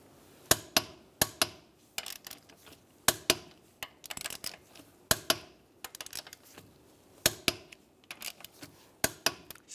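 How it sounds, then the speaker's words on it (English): A torque wrench tightens the wheel bolts of a 1998–2010 Volkswagen Beetle in a cross pattern, making a series of sharp close clicks in quick clustered pairs and groups separated by short pauses. "we're going to torque all the wheel bolts to 89 foot-pounds in a cross pattern"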